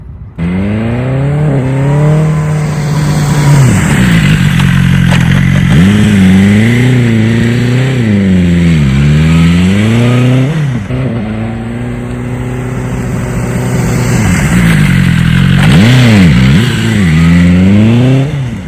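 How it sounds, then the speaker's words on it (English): A motorcycle ridden hard toward an obstacle: a loud, close engine revs up in rising and falling sweeps, dropping as the rider brakes, then climbing again through a swerve, repeated several times. "I'm gonna hit the obstacle, I'm going too fast, need to get off the brakes and then go into a swerve"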